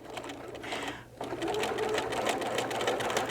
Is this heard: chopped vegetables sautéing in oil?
no